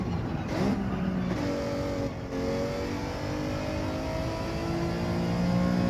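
A Ferrari Group 4 race car in Gran Turismo 7 at Suzuka, its engine climbing through revs in rising sweeps with quick dips at gear changes, loud and close and alone.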